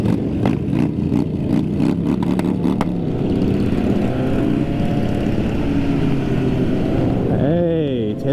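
Many motorcycles riding together on a group ride, engines droning and rumbling continuously with rising and falling revs and heavy wind buffeting, close and loud throughout.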